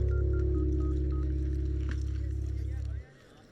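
A series of short, evenly spaced telephone keypad tones beeps over a loud, steady low hum, which cuts off abruptly near the end.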